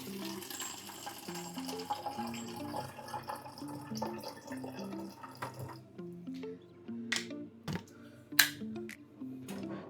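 Water is poured out for a puppy: a faint trickle with scattered drips over a quiet background, followed by a few sharper splashes near the end.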